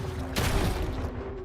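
A short burst of rapid gunfire in the post-apocalyptic biopunk strategy game Deep Fringe, a loud crackling volley that quickly fades into a steady background hum.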